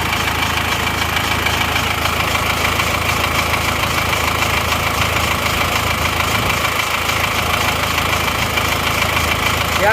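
A car engine idles steadily during a cooling system check after a radiator shop judged it overheating, giving a loud, continuous mechanical drone with a slight knocking texture throughout and no talk.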